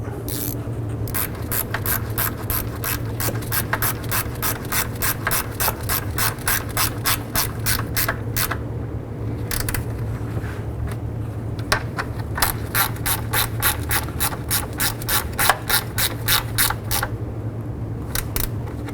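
Ratchet tightening radiator fan bolts on a 2007–2011 Honda Civic, heard as long runs of rapid, crisp pawl clicks in steady bursts with a short pause midway, close up and alone.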